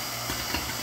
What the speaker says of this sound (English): it's boiling pretty hard already. This is all the moisture coming out.